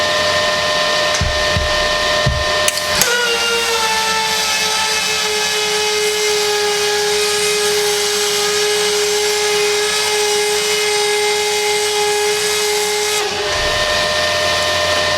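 An HTP Pro Pulse 220 MTS MIG welder runs at maximum settings, 200 amps and 23.3 volts, laying a loud, steady hissing, buzzing arc that holds unbroken for about ten seconds before cutting off.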